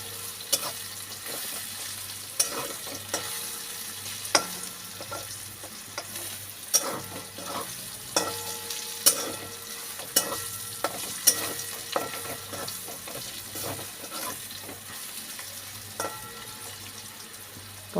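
Snake gourd frying with poppy seeds in a pan, a steady sizzle broken by frequent sharp clicks and scrapes of a spatula stirring, fairly close and without talk.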